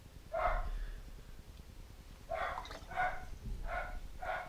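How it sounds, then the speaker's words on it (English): A dog barks indoors in a series of five sharp woofs: one single bark, a pause of nearly two seconds, then four more in a fairly quick run, moderately near. "I think he's finished barking now."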